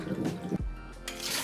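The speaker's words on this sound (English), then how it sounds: "Wash the rice until the water runs clear." Rice is rinsed in water for a thyme chicken rice made in a rice cooker, with soft sloshing and trickling close by, a brief pouring gush partway through, and quiet running water after it.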